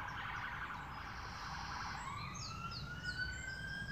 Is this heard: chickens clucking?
no